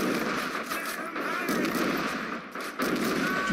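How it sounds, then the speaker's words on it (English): Dense gunfire from the Men of War Assault Squad 2 video game forms a continuous, loud barrage of overlapping shots, with a brief dip partway through. "Shoot up this guy here."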